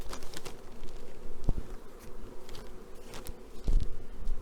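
Honey bees buzz around a hive during their first spring cleansing flight, a continuous close swarm hum with individual bees droning past and a few light knocks.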